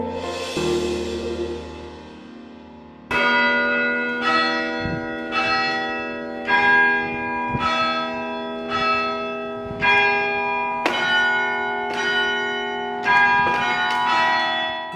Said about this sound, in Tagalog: ang mga kampana ng simbahan hindi lang tumatawag sa misa